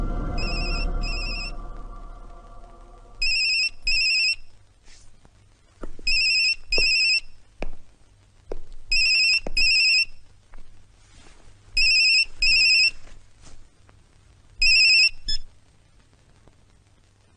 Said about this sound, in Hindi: यशवंत को मोबाइल पे फोन लगाओ